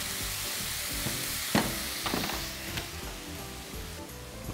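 Eggplant and garlic frying in a pan for lasagna, a loud dense close sizzle with occasional clicks and scrapes of stirring, steady throughout.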